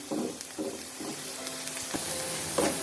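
Potato, pointed gourd and pumpkin peels fry in a pan with a soft, constant sizzle, punctuated by regular stirring scrapes, heard up close without talk.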